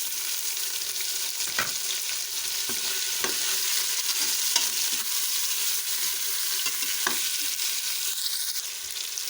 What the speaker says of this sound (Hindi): लहसुन अदरक में चिकन को फ्राई करने से इसकी स्मेल वगैरह ख़त्म हो जाती है